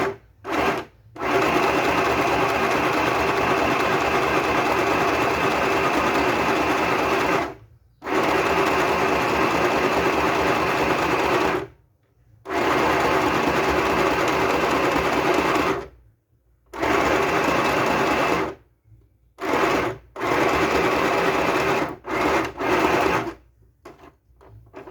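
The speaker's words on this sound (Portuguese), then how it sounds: "vou baixar novamente o pezinho e eu vou continuar minha costura." A sewing machine stitching a fabric bow, running in loud steady whirring bursts of several seconds each, separated by short silent pauses as the fabric is turned.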